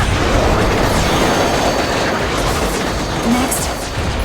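A train in the video game Scarlet Nexus plows through enemies, producing a dense, loud, continuous rumble with scattered clattering impacts throughout, and no speech.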